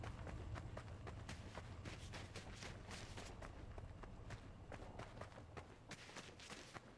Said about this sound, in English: I heard some other footsteps